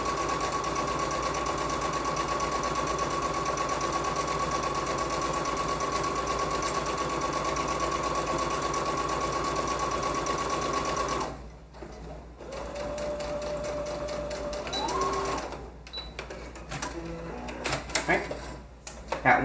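A sewing machine stitches around the armhole of a fall jumpsuit, running steadily for about eleven seconds, then stopping and starting in shorter bursts with handling noise in between.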